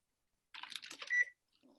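A kitchen timer being set to nine minutes for baking cookie dough gives a short burst of electronic beeps and button chirps, ending in a sustained tone, close and alone.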